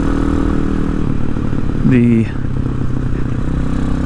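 A Hawk 250 motorcycle with a brand-new Loncin RE250 six-speed engine swap runs steadily while riding, a loud continuous engine drone with a brief tonal shift midway, and someone talks over it.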